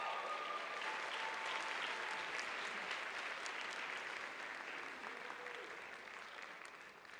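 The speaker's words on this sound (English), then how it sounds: "Yes, you clap for them." Audience at a student honor roll ceremony applauding steadily for honor roll students, a dense, sustained wash of clapping from a sizable crowd that fades slightly toward the end.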